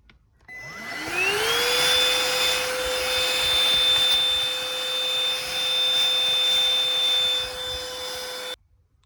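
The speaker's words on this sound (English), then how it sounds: "If you have a small vacuum cleaner like this, you can vacuum the small debris out to avoid that it goes into the engine" A small handheld vacuum cleaner clears debris from a Suzuki SX4 S-Cross engine bay during spark plug replacement. Its motor spins up over the first second to a steady, loud whine with a high tone and keeps running until it cuts off abruptly near the end.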